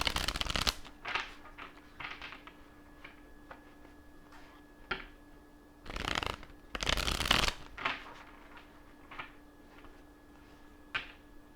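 A deck of reading cards is shuffled by hand in several brisk riffling bursts, with soft taps and ticks in the quieter gaps between them.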